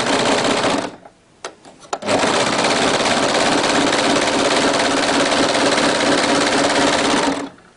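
A sewing machine runs a seam on a girl's summer dress in loud, fast, continuous stitching bursts, stops briefly for a second with a few clicks, then stitches steadily again before cutting off near the end.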